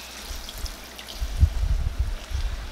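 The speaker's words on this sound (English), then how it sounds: "now we're going to slowly add in our beef broth" Beef broth poured slowly into a pot, a soft low trickle and gurgle that swells midway and carries on steadily, fairly quiet and close, with no voices.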